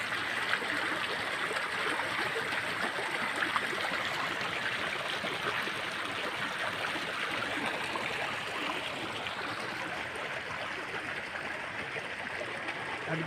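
A village stream near Dapoli rushes steadily around a person standing knee-deep in it, a close, continuous wash of flowing water with no talking.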